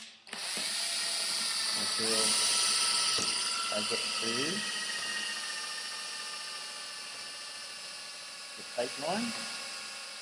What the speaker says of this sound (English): This is a hand drill, electric drill